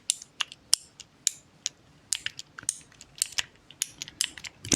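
Small keyboard keys pressed one by one in a quiet ASMR setting, crisp close clicks in an irregular tapping rhythm with short pauses between presses.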